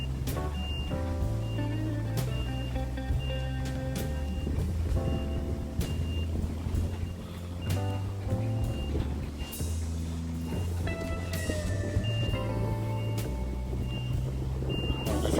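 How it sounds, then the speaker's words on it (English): A vehicle reversing into a gap on a construction site, its beeps repeating steadily over a continuous engine and machinery rumble, with faint wind and background site noise. "down here we've got a vehicle reversing into a gap"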